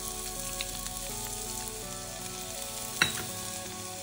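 Chopped onions hiss and sizzle steadily in hot oil in a pan for a fenugreek and pea salad, with a brief louder crackle near the end over faint steady tones.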